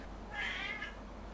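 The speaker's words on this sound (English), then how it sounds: "That's my cat." A house cat gives a single drawn-out meow at moderate distance, rising and falling over about half a second, then quiet room tone.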